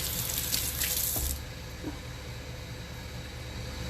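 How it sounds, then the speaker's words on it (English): A kitchen tap runs as hands are washed under it while cooking, a steady rush of water that cuts off abruptly after just over a second, leaving quiet room tone with a faint clunk. "let me wash my hands real quick."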